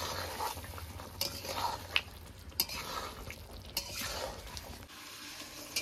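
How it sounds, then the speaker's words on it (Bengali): A spoon stirs ground poppy seed and rice paste into a simmering rohu fish curry in a pan, with scraping and clinking at irregular intervals over a steady low sizzle, close and moderately loud. "পোস্ত আর চাল মগজ বাটাটা দিয়ে দিয়েছি, এবার নেড়ে চেড়ে মিশিয়ে নেব"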